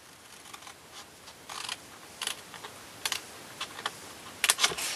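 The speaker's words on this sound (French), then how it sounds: "on va couper de chaque côté des angles le long des lignes de marquage" Scissors snip through a folded paper box blank at its corners, cutting along marked lines in quiet surroundings; a few crisp, irregular cuts rise and fall over five seconds, close and fairly soft, with no talking.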